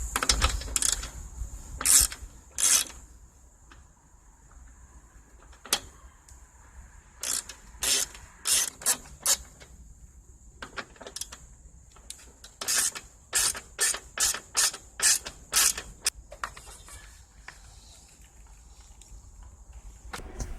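Bursts of rapid ratcheting clicks from a 5/16 socket wrench working on a Murray lawn mower engine, repeated in short runs with quiet pauses between, close up.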